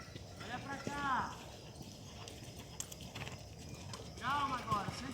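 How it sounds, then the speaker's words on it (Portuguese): Hooves clip-clop in a steady rhythm as a horse canters in a show-jumping training session, the beats moderately close and continuous while a rider talks over them. "o galope fica curto e o cavalo continua galopando"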